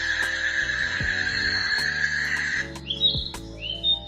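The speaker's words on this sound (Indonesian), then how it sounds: "Ini fitur burung." Recorded birdsong plays through a Xiaomi Mijia Qualitell portable speaker: sustained high chirping and trilling with repeated short calls, fairly loud and continuous, with no talk.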